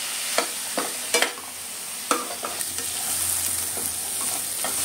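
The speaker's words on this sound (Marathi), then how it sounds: "हे बघा, कांदा आता गोल्डन ब्राऊन व्हायला लागलाय." Onion fries in a pan for a jawala (dried shrimp) recipe, giving a steady soft sizzle that runs throughout while a utensil scrapes and stirs in several sharp taps.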